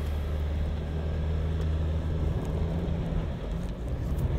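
4WD SUV engine straining off-road under added throttle, a steady low rumbling drone heard from inside the vehicle, loud and continuous with little variation.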